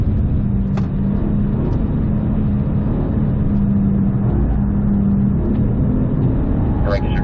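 A BMW M4 GT4 race car accelerates at full throttle down a straightaway, its engine a loud, continuous droning roar filling the whole stretch.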